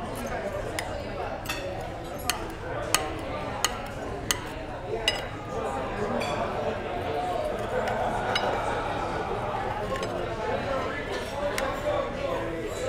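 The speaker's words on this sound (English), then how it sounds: "All right, cut off this edge." Knife cutting the cap of a prime rib on a plate in a casino restaurant, a few sharp clinks and taps of metal against the dish over steady restaurant chatter and a person talking nearby.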